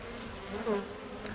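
Faint, steady buzzing of honey bees crowding a hive feeder hums throughout, with a few louder passes as individual insects fly near the microphone.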